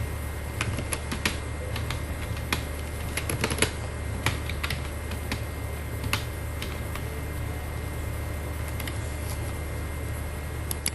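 Rapid clicking of computer keyboard keys while typing text into an Excel spreadsheet cell, a steady irregular patter of light taps over a low background hum, with no talking.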